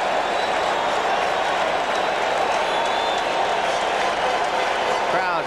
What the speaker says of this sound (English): Crowd making the kind of noise it normally makes for Dwight Gooden. They want another strikeout.